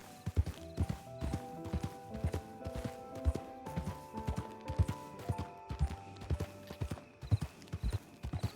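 Video-game horse hooves clip-clop steadily at a walking pace, the crisp evenly spaced beats fairly close and alone.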